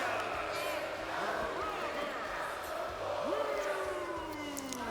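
Arena crowd noise from the WWE 2K22 wrestling video game, a steady roar with rising and falling chants running under a commentator's voice throughout.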